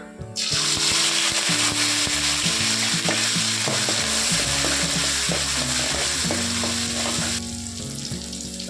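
Sliced onions and curry leaves hit hot oil in a pan for a fish curry, bursting into a loud, dense sizzle that holds steady, then eases slightly near the end, with no one speaking.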